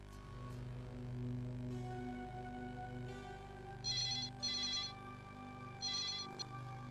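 A telephone rings in a few short, bright bursts over a low steady hum and background drone, with no voices during the rings.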